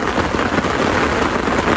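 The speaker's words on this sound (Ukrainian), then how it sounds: "Хочеться, щоб ця вже злива пройшла і далі був спокій." Heavy rain pouring down during a night thunderstorm at an autumn carp-fishing camp, a loud, dense and continuous hiss of rainfall drumming close by on surfaces, with no talk.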